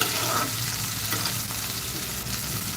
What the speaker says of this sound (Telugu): ఉల్లిపాయలు అయితే కలర్ అయితే చేయాలండి ఈ విధంగా ఫ్రై చేసుకుంటే సరిపోతుంది